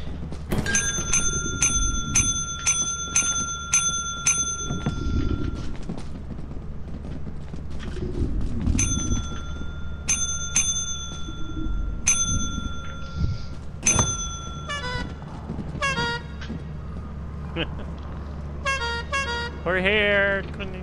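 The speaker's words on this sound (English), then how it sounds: "Ring the bell, damn it." A bell in the video game Lethal Company rung in quick repeated dings, several rapid bursts of bright ringing strikes over steady background noise and voices talking.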